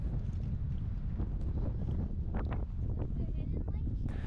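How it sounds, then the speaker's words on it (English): Wind blowing across a mountain saddle below Mt Reynolds in Glacier National Park, loud gusty rumble buffeting the microphone throughout while voices talk faintly beneath it. "although you can't hear it because of the wind"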